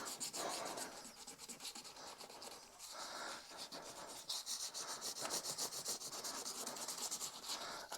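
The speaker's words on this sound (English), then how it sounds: "I'm just going to go along the edges of the frets and just smooth those edges out that tiny bit more with this same sandpaper" Sandpaper is rubbed along the edges of guitar frets on a Mexican Fender Stratocaster, making a soft continuous scratchy rasp with quick back-and-forth strokes, close and quiet.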